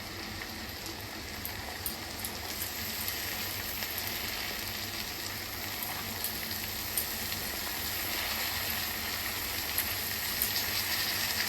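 Soaked chana dal sizzling in a hot pan of oil while cooking a papaya and potato vegetarian dish, a steady crackling fry that holds evenly throughout without talk.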